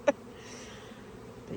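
Honeybees buzzing around backyard beehives on orientation flights, a faint steady hum with a brief louder burst as one passes near at the start.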